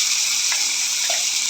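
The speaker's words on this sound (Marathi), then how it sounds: "काजू आणि कांदा ह्याची पेस्ट घालून घेते आहे" Cashew and onion paste sizzles steadily in a hot tempering pan with cumin and bay leaf, a dense, close frying hiss with faint stirring scrapes, no voices.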